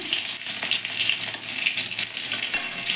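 Crushed garlic, nigella seeds and a dried red chilli frying in hot oil, a loud dense continuous sizzle with a crackling spatter throughout, close by and with no voices.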